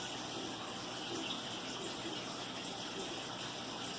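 Water trickles and splashes steadily from a small fountain built around a whisper aquarium filter in a bullfrog enclosure, a constant soft gush at low level with no voices.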